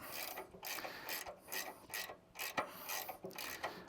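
A socket wrench snugging a bolt on a Cobra Fortis mower cassette, its ratchet pawl clicking in quick, close bursts of several strokes each, alone in a quiet room.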